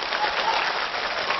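Steady applause from a theatre audience at a comedy sketch show, a dense even patter of clapping that holds for the whole short stretch without voices.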